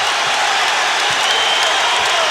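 A packed arena crowd at a 1989 Pistons vs Bulls NBA playoff game roars and cheers continuously after a three-point play, loud and sustained.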